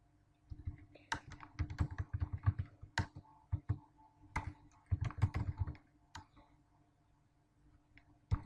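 Bursts of typing on a computer keyboard while a code comment is written, close clicky keystrokes in quick clusters separated by short pauses, with no talking.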